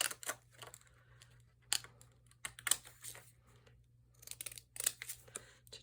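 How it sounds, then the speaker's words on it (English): Shaped craft scissors trimming around a small paper postage stamp for a handmade card, giving several short crisp snipping bursts in scattered clusters, close and fairly quiet with no talk. "I'm going to take this little postage stamp and use my shaped scissors"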